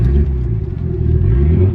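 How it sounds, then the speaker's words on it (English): Nissan R32 drift car engine with a loud, steady low rumble and slight rev fluctuations, close and continuous with no talking. "The car sounds amazing."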